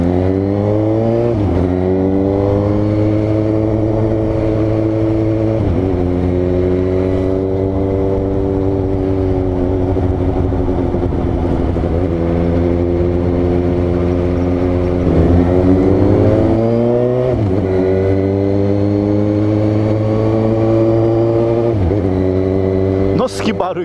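A Suzuki GSX-S750 motorcycle engine revs repeatedly up and down at close range, loud and continuous with several distinct throttle blips, while someone talks excitedly over it.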